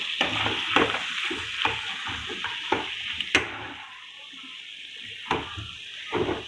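Prawns frying in hot oil on a stove, a steady close sizzle broken by sharp clinks and scrapes of a utensil as they are stirred and lifted out of the pan.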